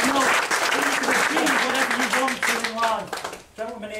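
Audience applause rolls on throughout, dense and close, while a voice talks over the clapping.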